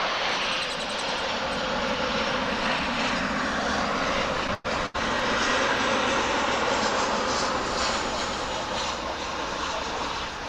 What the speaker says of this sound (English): That in the foreground was a flight coming in from Omaha on American Airlines.